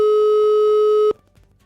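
A telephone busy signal on a radio call-in line sounds as one loud steady electronic tone that cuts off abruptly after about a second, leaving faint room noise.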